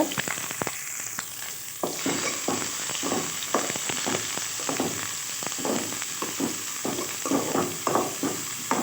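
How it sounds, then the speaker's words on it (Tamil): Onions sautéing in hot oil with mustard seeds and curry leaves for a dried anchovy thokku: a steady close sizzle with frequent crackles and scraping stir strokes, no voices. "வெங்காயம் லைட்டாக வதக்கி விட்டுக்கோங்க."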